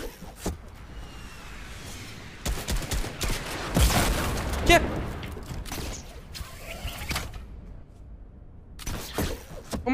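Fortnite gameplay gunfire: a dense burst of shots peaks in the middle, with sharp shot-like transients scattered before and after over steady game noise, fairly loud throughout.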